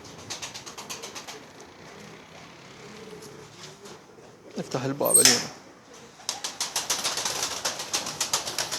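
Pigeons coo softly in a quiet loft, with a brief burst of wing flapping midway and a voice speaking briefly.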